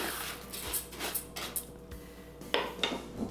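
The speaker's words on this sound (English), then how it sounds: "Stir it around, get it mixed up." Brown and white jasmine rice is stirred in a rice cooker pot, a utensil making several soft scrapes and light metallic clinks at an uneven pace, close and quiet.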